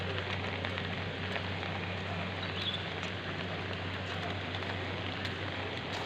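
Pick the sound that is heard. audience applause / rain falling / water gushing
rain falling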